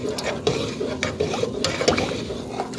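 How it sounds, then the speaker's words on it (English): Jamaican cornmeal porridge is stirred in a pot on the stove, with repeated scraping and clinking of the spoon against the metal at a steady rhythm. A soft bubbling simmer sits underneath, close and moderately quiet. "I go and stir it till it starts boil up."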